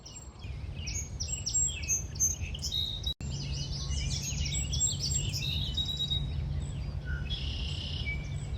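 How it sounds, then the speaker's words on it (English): Many birds sing and chirp together in a steady outdoor chorus in the Great Marsh of Indiana Dunes National Park, over a low background rumble, with no one speaking. "You really hear a lot of the birds."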